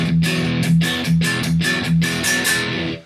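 Electric guitar played through a BIAS Desktop amp model, a sustained distorted tone repeated as a steady rhythmic pattern of chords, loud and alone.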